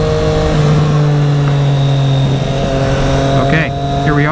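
A 2024 Triumph Street Triple RS motorcycle engine running loud and close, holding a steady droning tone with a few quick pitch shifts toward the end.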